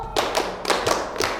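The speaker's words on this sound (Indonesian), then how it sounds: "Tepuk dua." Crisp hand claps in a quick pattern from a classroom group game, about five distinct claps grouped in pairs, close and loud against a quiet background.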